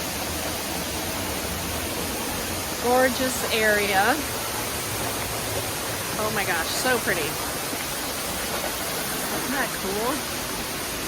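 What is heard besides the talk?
waterfall heard from behind the falling water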